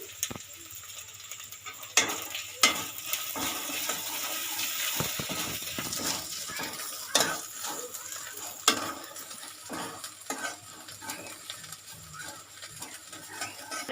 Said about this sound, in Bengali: এবারে আদা রসুনের বাটাটা দিয়ে দিচ্ছি।